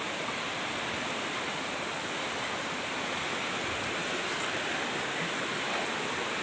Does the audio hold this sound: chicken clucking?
no